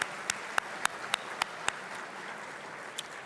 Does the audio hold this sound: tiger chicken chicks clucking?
no